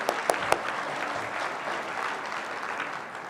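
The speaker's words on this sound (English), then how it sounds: "I think he deserves a round of applause" A crowd applauds at a regional science and engineering fair awards ceremony, steady clapping that opens with a few distinct claps and then settles into a continuous wash.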